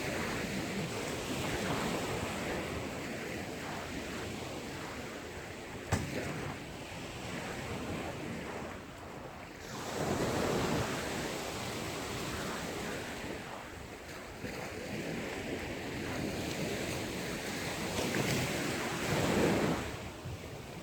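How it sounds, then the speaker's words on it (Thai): Sea waves wash continuously onto the beach at Hua Hin while wind buffets the microphone, a steady roar that swells and eases in slow surges. "ก่อนจะปิดกล้องนี่ให้ดูบรรยากาศก่อน บรรยากาศทะเล"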